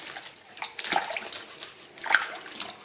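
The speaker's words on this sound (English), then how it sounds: "grab my sponge and just wash them out as clean as I can" Dishwasher filters are scrubbed with a sponge under water, with soft sloshing and splashing rising in two short bursts over a quiet background and no talking.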